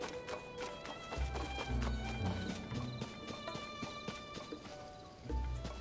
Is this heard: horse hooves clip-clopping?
yes